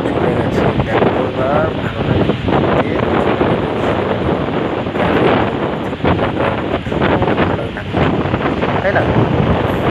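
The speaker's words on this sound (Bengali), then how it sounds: "সমুদ্রের জলের যে আওয়াজ তাতে করে কারো কোনো কথাই কানে যাচ্ছে না" Sea waves crash and wash at the shore at Kanyakumari while strong wind buffets the microphone, a loud continuous roar throughout with voices faintly mixed in.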